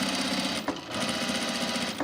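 A sewing machine top stitching a shirt, steady close whirring hum with rapid needle ticking, broken by a brief pause midway before the stitching resumes.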